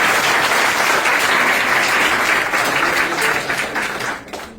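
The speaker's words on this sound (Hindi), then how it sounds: "मैं चाहूंगा इनके लिए एक जबरदस्त तालियां हों।" Loud, dense audience applause from a large crowd at a motivational talk, sustained steadily and then thinning and fading toward the end.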